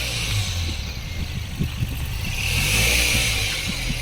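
A running engine of a first-model Nano car, a steady mid-low rumble that swells slightly toward the end, heard close up with faint background noise.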